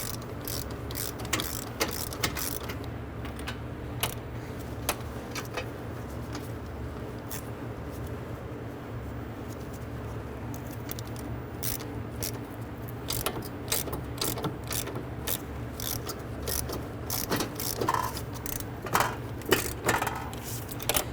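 Ratchet clicking in short bursts while driving a hub bolt into a Nissan Quest front wheel hub and bearing assembly, with metallic mechanism clatter and scattered sharp ticks over a steady low hum; no talking.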